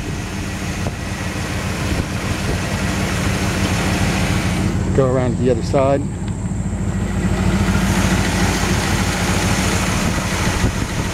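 A 1950 Chevy chop-top hot rod's V8 engine idles steadily and loudly throughout with a deep rumble and no exhaust leaks, with someone speaking briefly over the low throb partway through.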